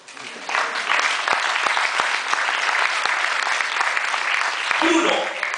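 Loud, sustained applause from a crowd at a Pecha Kucha Night event, steady clapping that fills the space, with a voice briefly audible near the end.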